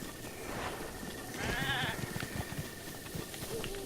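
A goat bleats in the wilds of Zelda: Breath of the Wild, one wavering bleat heard over soft footsteps and ambient game sound, with a person talking faintly in the background.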